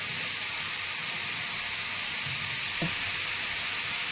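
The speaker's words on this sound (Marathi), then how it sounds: "तर छान आपल्याला गोल्डन कलरचा हा कांदा परतून घेत आहे अंड्याच्या भुर्जीसाठी" Chopped onion fries steadily in a pan for Maharashtrian-style egg bhurji with country eggs, giving a continuous broad sizzle with one brief stir-like knock near the end and no talking.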